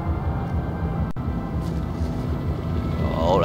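Helicopter flying in the video game Battlefield 4, a steady low rotor and engine rumble that holds evenly throughout, rising slightly at the end, with no one speaking.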